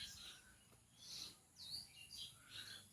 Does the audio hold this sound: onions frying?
no